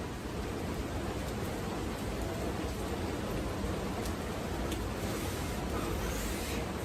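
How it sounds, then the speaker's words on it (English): Heavy rain pours down steadily in a public park, a dense, continuous hiss of drops close by with no pauses and no voices. "it is rainy, y'all, and man, it is coming down"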